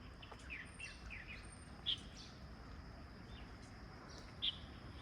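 Birds chirp sparsely at a quiet viewing platform overlooking a small county town in northern China, a few sharp high calls standing out over soft ambient hush.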